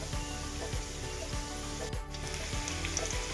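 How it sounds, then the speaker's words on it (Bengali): Potatoes frying in oil in a home kitchen pan, a steady close sizzle running throughout with faint background hum, no talk. "প্রথমে লাল লাল করে আলুটাকে ভেজে নিই"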